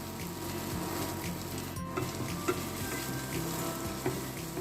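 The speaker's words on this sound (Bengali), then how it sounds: "অবশিষ্ট বাটারে দিয়ে দিলাম রসুন কুচিগুলো আর 10-12 টুকরো গোলমরিচ।" Chopped garlic and ten to twelve peppercorns fry in leftover butter in a pan, a steady soft sizzle running throughout with a few small pops and stirring clinks, no voices.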